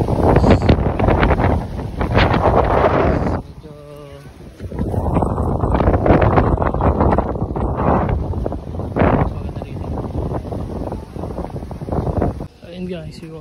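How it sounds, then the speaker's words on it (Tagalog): Strong outdoor wind buffets a microphone on a climb of about 200 steps on Bohol Island in the Philippines, producing loud low rumbling gusts that briefly drop away before returning, with people talking intermittently. "Mahangin."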